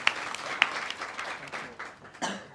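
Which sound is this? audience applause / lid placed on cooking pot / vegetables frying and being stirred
audience applause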